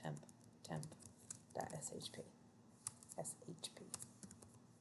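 Typing a file name on a computer keyboard, a quick irregular run of close key clicks in small bursts, with a voice talking faintly underneath.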